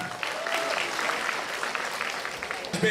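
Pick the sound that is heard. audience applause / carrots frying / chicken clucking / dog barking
audience applause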